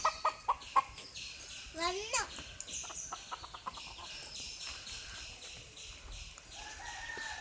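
Chickens cluck in a lush green yard of a family home in Malappuram, with a few sharp calls early on, then a drawn-out crow-like call and scattered clucking over a low, steady background, with faint voices nearby.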